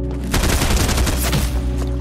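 Rapid gunfire in Fortnite, a loud burst of repeated shots bursting in after a brief quiet start and continuing to the end, close and dense with no talk.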